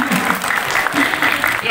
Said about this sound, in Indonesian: Tepuk tangan lagi untuk Aisyah.